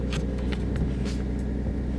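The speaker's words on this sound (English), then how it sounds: "so that's why I'm in the car right now." Interior of a moving car, a steady low road and engine rumble held at an even level with no talking.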